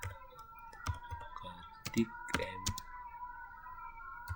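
A computer keyboard is typed on in short bursts of sharp, quiet key clicks with irregular gaps, close and faint in a quiet room, while a voice speaks softly alongside.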